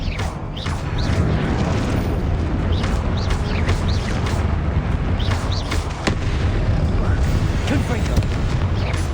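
Repeated fiery Confringo spell blasts in the Hogwarts Legacy video game, booming explosions and crackling impacts layered over a dense, constant combat din, with brief swooshing spell casts throughout.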